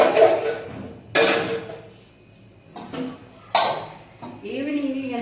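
Dishes and children's lunch boxes being washed in a home kitchen in the evening: sharp clanks and clatters of metal containers come in bursts with quieter gaps, while someone talks between them.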